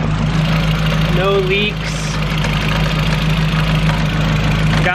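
A VW MK1 Golf with a 1.8T engine idles steadily in an all-wheel-drive project build. A constant low hum and rumble run throughout, loud and close, with a voice talking briefly over it.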